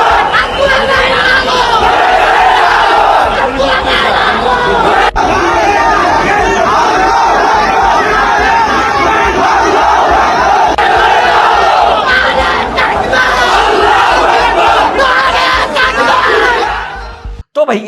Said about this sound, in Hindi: और भीड़ के नारे कुछ ये थे